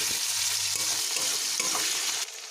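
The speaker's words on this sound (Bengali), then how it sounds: "এবারে একটু নেড়ে দেব।" Onion and chopped tomato fry in a pan with a loud, dense, continuous sizzle close up, stirred briefly before the sound suddenly drops and quiets near the end; no talking.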